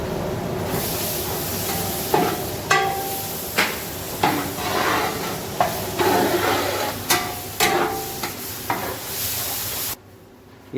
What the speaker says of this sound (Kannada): ಈರುಳ್ಳಿ ಸ್ವಲ್ಪ ಬಿಸಿಯಾಗುವಷ್ಟರಲ್ಲಿ ಸ್ವಲ್ಪ ಕರಿಬೇವು ಹಾಕಿದ್ದೇನೆ